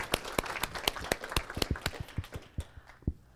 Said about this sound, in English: You guys give him a round of applause.